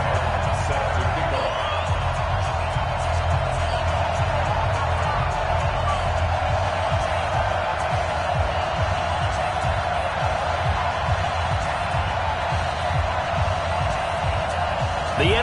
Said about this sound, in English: This crowd is ready as their guys get set to match up between the Tennessee Titans and the Oakland Raiders.